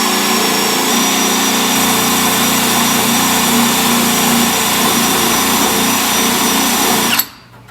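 A power drill fitted with an arbor and abrasive pad whirs steadily at high speed while cleaning the shaved engine bay of a Foxbody Mustang, running loud and continuous before cutting off abruptly near the end.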